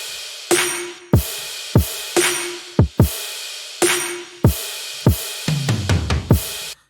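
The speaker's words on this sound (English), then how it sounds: "and this is how the drums sound." A future bass drum pattern plays alone: evenly spaced punchy kicks and snappy hits with a short bright tail, ending in a quick roll of rapid hits, loud and close.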